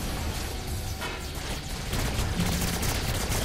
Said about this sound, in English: I could shoot aliens for a while.